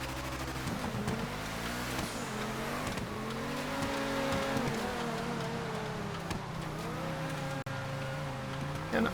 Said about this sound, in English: Front wheel drive race car, no less